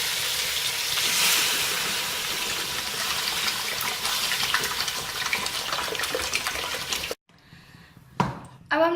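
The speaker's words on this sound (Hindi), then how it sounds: "अब हम इसमें पानी ऐड करेंगे।" Water is poured into a hot pan of fried peas for pulao, giving a long, loud rushing splash with sizzling that suddenly stops, then a brief clatter.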